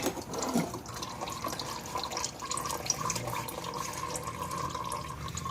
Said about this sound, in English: So draining the filter.